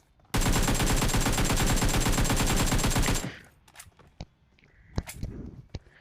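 Rapid automatic gunfire in PUBG Mobile on the Erangel map rattles in one loud, sustained burst of about three seconds, then gives way to quiet scattered clicks and footsteps.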